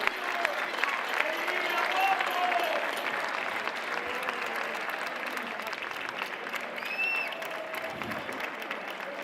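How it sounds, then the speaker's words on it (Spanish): Audience applause at the final of a murga competition in Pontevedra, a broad steady clapping texture with crowd noise, moderately loud and sustained throughout, with faint voices and a brief whistle-like tone mixed in. "Aplausos para o equipo JA, os indios e as indias apaches."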